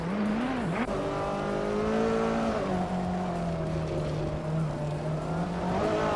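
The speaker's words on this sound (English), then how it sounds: "ZK Cross is driving a 2016 Ford GT-LM GT" A 2016 Ford GT-LM GT race car in a racing video game holds a loud, steady engine drone close up, with the pitch dipping and rising briefly before settling into a sustained high note.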